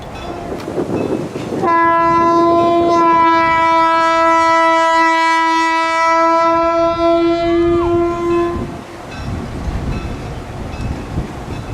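Orlando and Northwestern locomotive 1510 sounds a long, loud horn blast while hauling a 4-car train along the tracks in Eustis, Florida, with rolling rail noise before and after.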